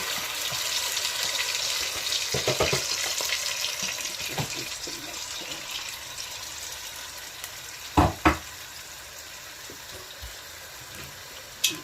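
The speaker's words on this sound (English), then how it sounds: "Start by cooking the tomato." Tomato frying in a pan for a basil and ogiri rice dish, a steady broad sizzle running throughout with a few sharp clinks of a utensil near the end.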